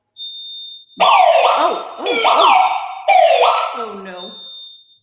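A home alarm panel gives off a steady high-pitched beep, then keeps sounding as a loud, shrill warble while people talk over it.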